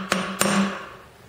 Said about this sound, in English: One way to get these off is to tap these with a hammer.